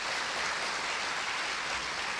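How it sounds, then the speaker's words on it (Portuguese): Congregation applause at a Brazilian church service: a steady, fairly faint wash of many hands clapping that runs unbroken for the whole stretch, with no talk over it. "Pode aplaudir."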